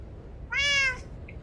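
A single clear meow from a cat in Minecraft, short and fairly loud, standing alone over a quiet background with no talk.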